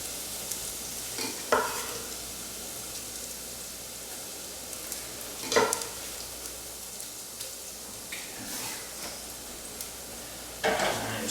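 Garlic warming in a pan for a basic tomato pizza sauce: a continuous soft sizzle and crackle with occasional stirring scrapes and clicks, close and moderately quiet, no talk.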